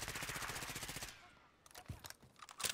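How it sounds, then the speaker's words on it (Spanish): Rapid automatic gunfire in Call of Duty: Modern Warfare rattles in a fast burst, then scattered shots and clicks follow more faintly, game-like and loud. "me están disparando"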